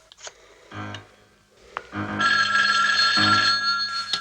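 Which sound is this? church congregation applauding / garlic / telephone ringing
telephone ringing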